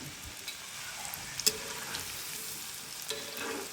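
Pumpkin fritters frying in oil make a soft, steady sizzle close by, with a few faint clicks and pops rising out of the hiss.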